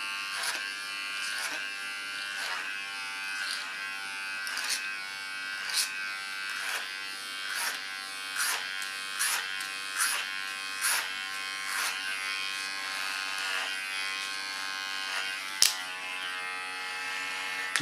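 Electric hair clippers buzz steadily while cutting an ultra-short platinum pixie haircut, the close, even drone broken by regular short pulses as the blades move through the hair.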